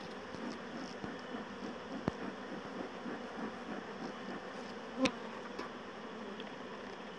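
Honey bees buzz continuously around an open hive during an inspection, a dense steady drone close by with a couple of sharp knocks from handling the frames.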